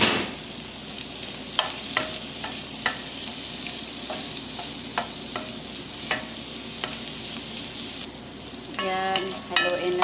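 Garlic and onion sauté in a pan with a steady crackling sizzle, punctuated by repeated scraping strokes of a spatula stirring them, close and continuous.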